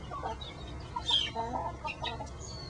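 Backyard pet chickens cluck and chatter softly at breakfast time, several close, short calls over a faint hum with no talking.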